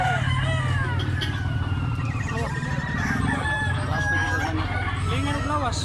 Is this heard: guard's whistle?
no